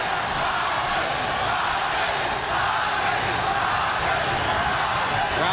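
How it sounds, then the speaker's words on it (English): Boxing arena crowd at the Manny Pacquiao vs Juan Manuel Marquez fight, loud dense roar of many voices with chanting in support of Marquez, continuous for the whole stretch. "Crowd chanting Marquez, Marquez,"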